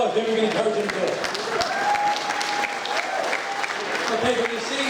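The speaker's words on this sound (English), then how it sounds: "So give him a round of applause." A crowd applauds steadily at a congressional general election campaign kickoff rally, sustained dense clapping for the whole stretch with voices mixed in underneath.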